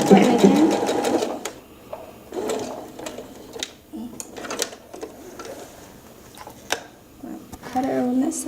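A sewing machine stitching in short bursts, a rapid mechanical whir between clicks and clunks of adjusting the mechanism, heard up close with a person talking over parts of it.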